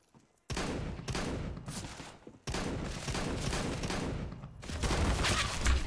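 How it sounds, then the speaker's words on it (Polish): Bursts of enemy gunfire in CS:GO crack out close and loud, rapid sprays separated by brief pauses, with heavy continuous shooting filling most of the stretch. "Z czego on niby strzela?"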